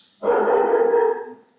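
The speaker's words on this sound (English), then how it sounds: "Sorry for my dog, guys." Pet dog letting out a single loud, drawn-out bark or howl lasting about a second, close by, with no other sounds around it.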